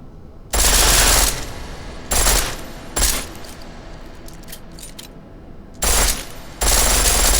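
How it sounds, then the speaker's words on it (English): Pistol fired in full auto in Deus Ex: Mankind Divided, loud rapid bursts: a long burst, two short ones and another burst near the end, separated by quieter ambient pauses. "The pistol in full auto will take down targets fast, but it'll burn through your ammo."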